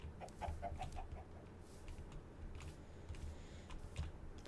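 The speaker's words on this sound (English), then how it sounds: "Oh, I actually got a baby chick." A baby chick in a video game gives a few quick, soft clucks early on, then fainter chirps over quiet background clicking like typing.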